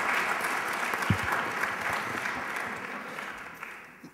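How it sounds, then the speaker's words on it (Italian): Applause from an audience at a lecture event on ethics and politics, dense clapping that starts strong and gradually fades toward the end, with a few louder thumps near the microphone. "vi chiedo di fare un applauso"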